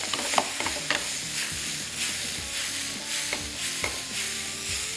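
Beef chunks being stirred and fried in a hot pan, with a steady broadband sizzle and repeated scraping clicks from the spoon, close and fairly loud, no voices.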